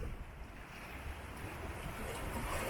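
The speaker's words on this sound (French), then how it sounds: "il y a de bonnes vagues, il y a un bon mètre" Sea waves about a metre high wash steadily around a sailing boat at sea, a continuous close hiss and slosh mixed with wind noise.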